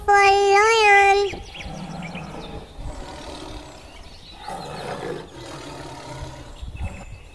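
A lion roars in a loud, wavering, harmonic cry lasting about a second at the start of a toddler's alphabet song. Singing and music carry on after it.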